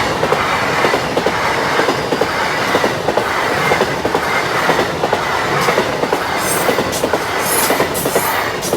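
An LNER passenger service from Newcastle to London King's Cross passes close by at Moat Hills level crossing, a loud continuous rumble with rhythmic clickety-clack of wheels over rail joints throughout and faint squeals near the end.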